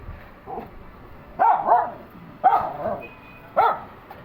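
A small caged dog barks in three sharp, separate bursts spaced about a second apart, close to the microphone, with a fainter yip just before them.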